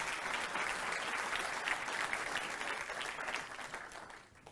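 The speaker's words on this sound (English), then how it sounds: "A big round of applause." Sustained audience applause fills the room at a risk management tech conference, a dense steady wash of many hands clapping that stays loud throughout and thins slightly at the very end.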